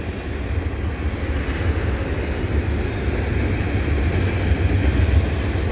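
A CN double-stack freight train passes at steady distance, a continuous low rumbling roar of wheels and cars with no distinct horn or breaks, even in loudness throughout.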